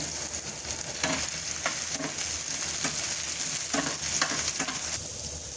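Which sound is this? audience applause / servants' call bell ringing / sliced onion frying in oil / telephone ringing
sliced onion frying in oil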